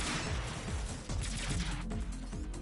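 Beam attack firing in the mecha action game Zone of the Enders, a dense, continuous crackling barrage with rapid bursts of impacts, loud and steady throughout with no voices.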